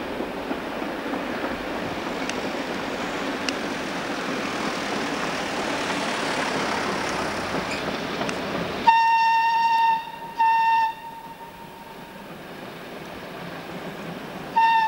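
Class 245 locomotive hauling a freight train near Lake Iseo's outflow into the Oglio river, heard as a steady loud rumble of passing wagons that gives way to a quieter scene with repeated high-pitched horn or whistle tones.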